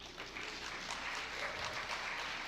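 An audience at a live public discussion event breaks into steady applause, a dense, even wash of many hands clapping for a few seconds without talk.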